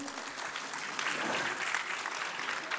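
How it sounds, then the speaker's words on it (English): A crowd applauds at a school annual function, steady dense clapping from many hands that swells slightly midway and carries on throughout the short stretch. "bigger round of applause, louder, very louder"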